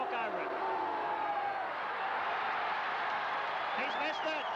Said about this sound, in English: listen to that Clarence crowd boo as the champ runs in the kick